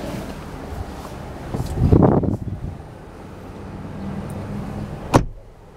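A 2023 Kia Sorento PHEV SX-Prestige plug-in hybrid SUV as someone climbs in: rustling movement and a soft thud mid-way, then a sharp door slam near the end, heard up close.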